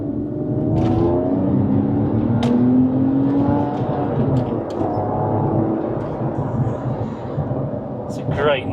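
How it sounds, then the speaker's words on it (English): A Porsche 911 997 with sports exhausts gives a raspy engine note, rising and falling through the revs over several seconds under steady cabin rumble, while someone talks. "Especially with these sports exhausts, and it's raspy, isn't it?"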